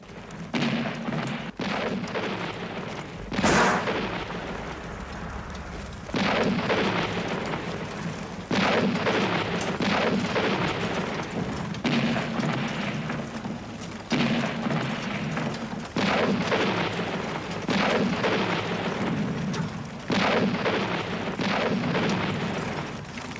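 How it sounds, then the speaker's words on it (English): Heavy artillery fire on a war front, deep booms arriving in repeated groups at a distance, each with a long rumbling tail, filling the scene. "Those deep booms, that's the heavy artillery."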